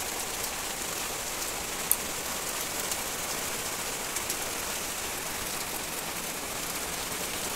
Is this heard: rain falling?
yes